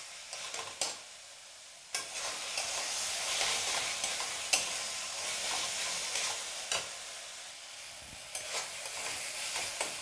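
Masala with tomato for a small-prawn chingri fry sizzles in a pan, a continuous close hiss broken by recurring scrapes and knocks of a stirring spoon.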